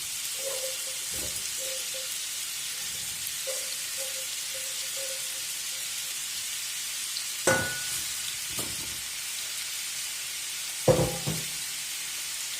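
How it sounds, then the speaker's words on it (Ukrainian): Potatoes frying uncovered in a pan for dinner, a quiet steady sizzle with a few soft knocks and scrapes of a utensil, no voices. "Так, картопля у мене підсмажується"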